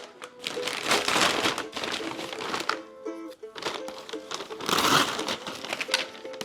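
Paper packaging around a Sea Gods paddle being unwrapped, with close, busy crinkling and tearing rustles that come in dense bursts, pause briefly, then resume.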